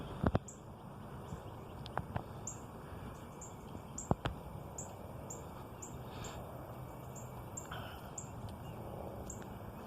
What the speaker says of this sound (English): That's the cardinal chirping.